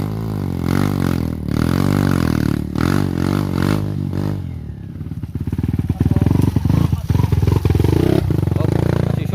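A dirt bike on the Mt. Paldingan mountain trail revs loudly up close, its engine rising and falling in pitch before settling into a choppy, sputtering idle with clattering knocks, while a voice talks over it.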